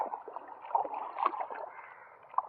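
Water trickling and gurgling through a freshly dug channel draining a waterlogged patch of ground, a soft, close, continuous burble with a few small splashes.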